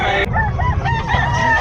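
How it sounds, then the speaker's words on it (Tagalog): Roosters crowing loudly and close at a crowded chicken market in Bocaue, overlapping calls over a busy background din. "Daming manok dito"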